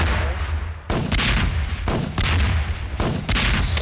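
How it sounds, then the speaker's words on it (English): Grenade blasts in Garry's Mod go off in a rapid series of loud, booming bursts, several overlapping explosions crowding the whole stretch with little pause between them. "So many grenades."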